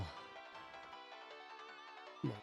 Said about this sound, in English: The ringtone cuts off during my hesitation.